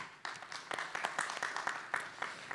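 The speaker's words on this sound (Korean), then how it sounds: "우리 박수로 환영해 주시기 바랍니다" A symposium audience in a church claps to welcome a presenter, a modest, scattered patter of hands with distinct individual claps, fairly faint and short-lived.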